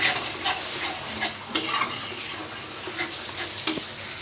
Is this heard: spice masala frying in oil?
yes